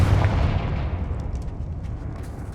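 Confringo explosive spell cast in the Hogwarts Legacy video game: a deep, loud booming blast that rolls into a low rumble and fades steadily.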